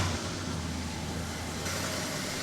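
Street car engine idling, a faint steady low rumble with no breaks, heard alone at a distance.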